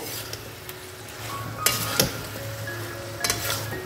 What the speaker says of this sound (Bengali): এই সময় আমি মাছের মাথাটা এর মধ্যে দিয়ে দেবো, দিয়ে ভালো করে নাড়িয়ে চাড়িয়ে কষিয়ে নেব